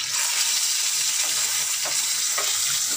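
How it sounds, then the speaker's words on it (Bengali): Fish frying in a pan for a home-cooked curry, a steady dense sizzle with occasional crackles and pops throughout, close and without talk. "রান্না হচ্ছে, মাছ ভাজা চলছে"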